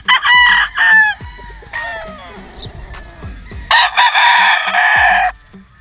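A straight comb Kearney sweater gamecock crows loudly and close by, three long crows with a softer, strained call between them.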